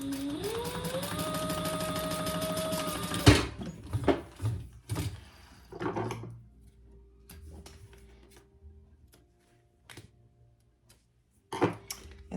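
A sewing machine stitches the seam of a bag's top panel, its motor whirring up in pitch and running steadily for about three seconds before stopping abruptly, followed by quiet fabric handling, clicks and taps.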